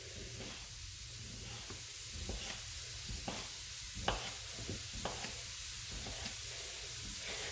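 Shrimp and sausage brown in a pan for jambalaya, giving a faint steady sizzle with occasional light scrapes and taps of a utensil, heard quietly and without speech.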